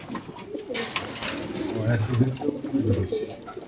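Pigeons at a bird sale, one with a leg ring, coo in repeated low, throaty bursts close by. Voices murmur faintly in the background.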